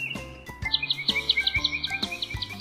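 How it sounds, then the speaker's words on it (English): Morning birdsong: a rapid series of bright, high chirps repeats steadily for a few seconds, clear and close, with a few lower tones underneath. "The birds were chirping,"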